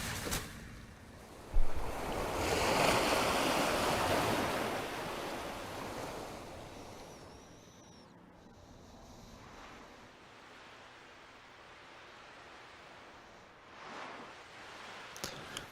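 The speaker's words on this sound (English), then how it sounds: "look at those water effects" Ocean surf in the video game Chrono Cross: Radical Dreamers, a wave surging up and washing out in a long soft hiss, then a calmer stretch before another swell rises near the end.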